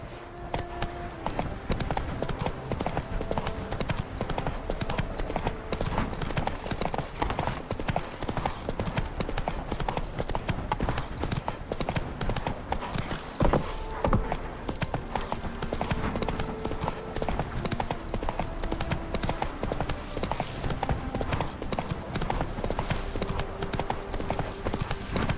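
A horse gallops in The Witcher 3 with a continuous, brisk clip-clop of hooves held at an even pace over background music, close and fairly loud throughout.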